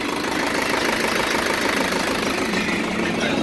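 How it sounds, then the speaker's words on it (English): A 2002 Isuzu NPR diesel truck engine idles steadily nearby, a constant low knocking rumble with no speech over it. "Engine sounds good."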